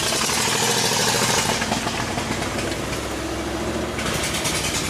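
A freshly reassembled Ford Explorer engine, driven in mud, is revved hard, then falls back to a rough idle and revs up again. The rumble is loud and close.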